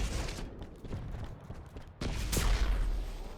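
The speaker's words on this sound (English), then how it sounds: "PepCo shooting the wall out of anger." A player in a competitive shooter duel firing at a wall, a sustained stream of muffled shots that swells into a louder, harsher volley partway through, with no talking over it.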